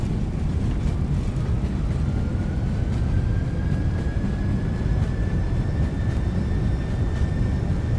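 An MD-11F freighter lands in the X-Plane flight simulator with reverse thrust engaged, giving a loud, steady engine roar with a rising whine held over constant low rumble.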